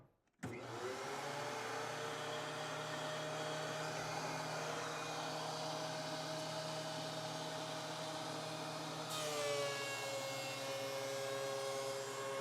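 Electric planer running continuously on wood boards, a steady loud whine with strong motor tones and a slight pitch change near the end, with no talking.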